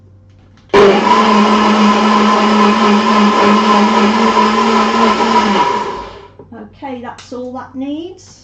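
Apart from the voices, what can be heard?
NutriBullet blender running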